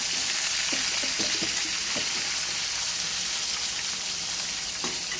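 Ivy gourd pieces frying in a hot pan while being stirred, a continuous hiss of sizzling oil with scattered scraping and clicking taps from the spatula, close and steady, no talk.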